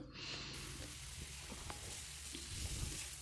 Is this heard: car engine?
no